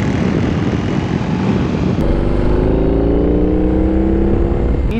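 A BMW R18 cruiser with its large boxer engine rides along, giving a loud continuous engine drone mixed with heavy wind rush, the tone shifting partway through as the rider changes speed.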